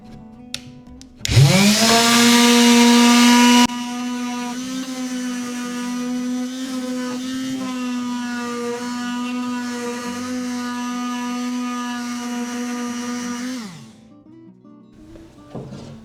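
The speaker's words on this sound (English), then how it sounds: "All right, old hand sander." An old electric hand sander works bare timber for fence posts, a loud steady motor whine starting abruptly, buzzing harsher at first then running evenly for about twelve seconds before spinning down.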